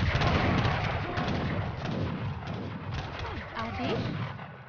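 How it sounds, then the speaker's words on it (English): Dense booming rumble of cannon and gunfire from a battle in Age of Empires III: The Asian Dynasties, continuous and loud, with voices shouting faintly underneath. "So you can kill that cannon fast."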